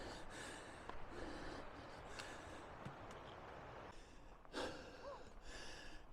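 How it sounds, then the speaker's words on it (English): Heavy breathing from a hiker on a trail in Kananaskis, a run of close, airy, fairly faint breaths with a few sharper gasps between them, over outdoor background noise and with no talk. "the audio for this portion will just be me breathing heavy"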